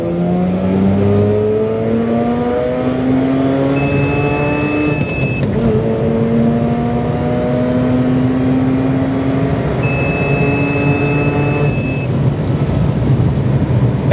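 High-pitched rotary engine of a Mazda RX-8 with a 6-speed manual revving hard to 9,000 RPM through the gears, pitch climbing to a shrill wail, dropping at each shift, then climbing again; loud and close with a whining tone.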